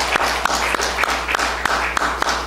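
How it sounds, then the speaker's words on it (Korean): A church congregation claps together at a Sunday service, a dense, steady applause of many hands with a few sharper individual claps standing out at a regular beat, sustained throughout and heard alone. "우리 모두에게 박수 한번 해주시기 바랍니다"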